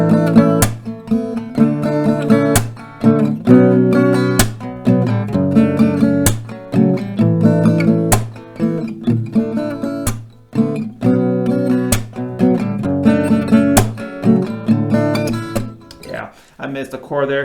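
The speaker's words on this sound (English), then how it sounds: "So with this kind of beat and strumming with the clap, it could sound something like this." An acoustic guitar strums the chords alongside a steady clap beat, with sharp percussive hits recurring at regular intervals through a continuous, close-miked strum.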